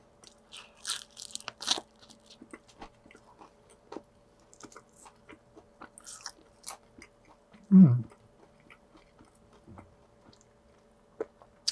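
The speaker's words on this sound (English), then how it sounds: "Hope you can hear that crunch." Someone bites into and chews a slice of pizza, with crisp close crunches and moist chewing sounds coming in scattered bursts and a stronger crunch partway through, all fairly quiet.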